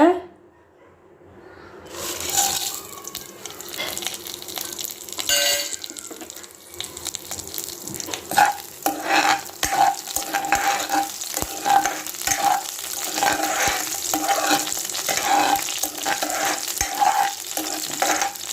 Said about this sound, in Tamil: ஒரு அஞ்சு காஞ்ச மிளகா அரை ஸ்பூன் மிளகு அரை ஸ்பூன் சீரகம் தனியா அரை ஸ்பூன் இதெல்லாம் அப்புறம் வந்து இதெல்லாம் சேர்த்து வறுத்துக்கோங்க